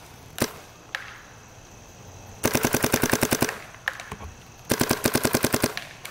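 A Dye DSR paintball marker fitted with a UL-I Boomstick barrel fires outdoors: a couple of single shots, then two rapid strings of sharp pops in quick rhythmic bursts, moderately loud with faint background ambience.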